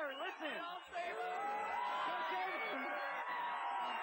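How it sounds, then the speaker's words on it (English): Distant screams and whoops from many people at an amusement park, overlapping into a faint, continuous crowd wash of rising and falling cries. "Listen, screams of terror."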